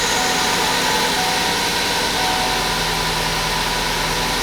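A 2013 Ford Focus engine idles steadily just after starting, a loud close mechanical hum with a slightly uneven, rough underlying pulse and no voices over it.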